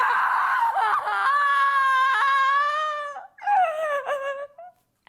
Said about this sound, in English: Listen as she tries one scream with the word no.